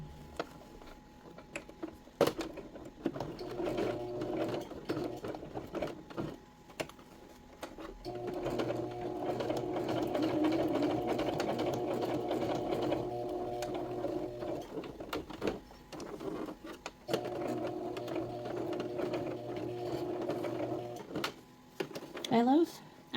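A sewing machine stitches appliqué onto a clutch bag, its steady mechanical whirr running in two long bursts separated by a pause, with soft clicks and handling noises between, moderately near and not loud.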